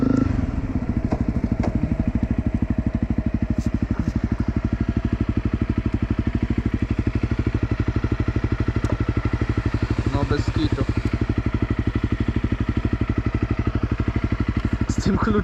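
A heavy quad bike engine runs loudly and steadily nearby in gear, a low rhythmic chugging with some clattering over it.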